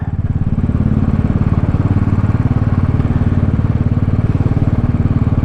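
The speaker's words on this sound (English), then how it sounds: "Now this one's been sent in by Mamre, that's me and my Royal Enfield." A Royal Enfield motorcycle engine runs steadily and loudly nearby with a continuous low, rapid thumping pulse and no speech.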